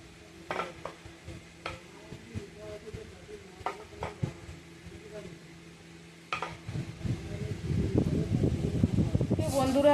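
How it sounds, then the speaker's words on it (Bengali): Gaja pastry, a salted dough snack without syrup, drops into hot oil in a home kitchen. Sparse utensil clinks come first, then a dense, growing sizzle of frying builds and fills the last few seconds. "বন্ধুরা তেলের মধ্যে দিয়ে দিয়েছি গজা"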